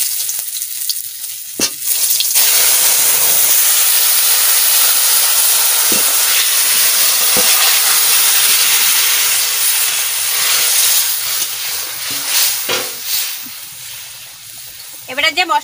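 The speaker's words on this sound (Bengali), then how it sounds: "এবারে আমি তরকারিটা ঢেলে দেবো।" Curry tipped into hot oil with bay leaf, bursting into a loud, close, steady hissing sizzle that holds for many seconds, with a few knocks and clatters of a utensil against the pan and a brief voice near the end.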